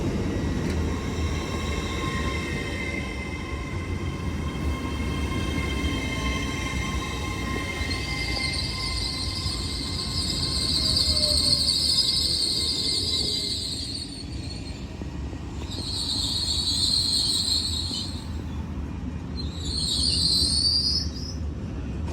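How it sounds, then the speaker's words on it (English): A Class 802 train pulls into Newton-le-Willows station with a steady rumble and a rising metallic wheel squeal that comes and goes in several high bursts. "Train also arriving in is another 802 going to Liverpool."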